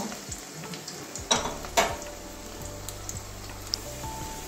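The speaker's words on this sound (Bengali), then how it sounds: "আলুটাও হালকা লাল লাল করে ভেজে নেব।" Cut potatoes fry in oil until lightly browned, a steady close sizzle with a few sharp spatters and clinks of a utensil against the pan, no talking.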